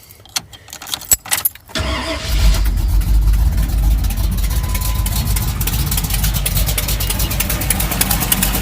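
A car engine with a big cam and a leaking exhaust from poorly fitting headers fires up after a few clanks, then settles into a loud, lumpy, rough idle that continues to the end, close by.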